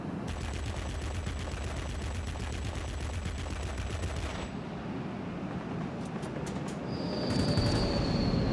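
Aircraft guns in World of Warplanes chattering in a fast, continuous rattle at a MiG, then cutting off, leaving engine drone and a high whine behind.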